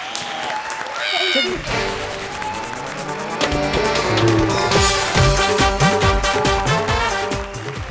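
Studio audience applause on a televised Hindi comedy show, loud and sustained for several seconds, mixed with a swelling music sting and some voices.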